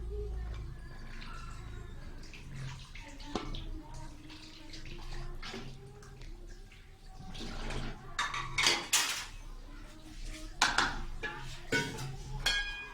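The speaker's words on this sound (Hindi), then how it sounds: "अब इससे हम डिश में डाल लेते हैं।" Fried rice scooped from a pan into a serving dish, with repeated metal spoon scrapes, clinks and clatters of cookware at close range, getting busier and louder toward the end.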